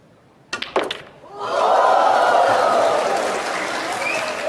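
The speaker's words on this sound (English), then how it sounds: "Yeah, crowd love that." Snooker crowd breaking into loud, sustained applause at the Xi'an Grand Prix 2024 final between Judd Trump and Kyren Wilson, following a few sharp knocks, then a dense steady clapping wash that holds and slowly eases.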